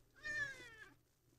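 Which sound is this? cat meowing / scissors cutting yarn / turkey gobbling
cat meowing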